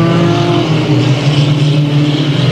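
Dirt-track race cars in a heat race at Delta Speedway roar together in a steady, loud engine drone, with pitch holding and shifting slightly as the pack circles the oval. No voice is heard over the engines.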